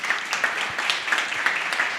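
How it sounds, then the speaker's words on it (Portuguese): A crowd at a typography conversation panel in Belém claps for a speaker, a brief burst of steady, moderately loud applause with bright scattered hand claps and no talking. "Palmas para Grimaldi,"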